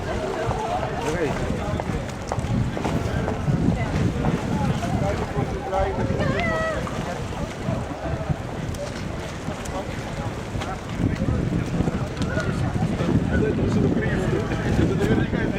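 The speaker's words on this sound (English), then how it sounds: "Actually a little bit windy out," Strong wind buffets the microphone throughout with a constant rough rumble in Venice, and voices and motor noise can be heard underneath.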